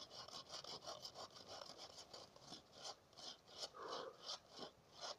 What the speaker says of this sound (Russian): Сильно туго идет, потому что оно, видишь, оно это сжимает у тебя пилу